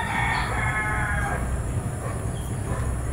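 A rooster crows in a drawn-out call near the start, with farmyard animal noise and steady outdoor background around it.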